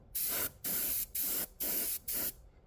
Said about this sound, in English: This is the way it's meant to be sprayed, right out of the bottle.